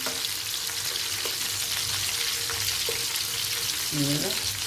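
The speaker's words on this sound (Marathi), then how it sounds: "बारीक गॅसवरच भाजायचं आणि अडटी पलटी करून भाजून घ्यायचं" Stuffed squid (calamari) sizzles softly in a pan over a low gas flame, a steady gentle frying hiss with a few faint clinks and scrapes as the pieces are turned.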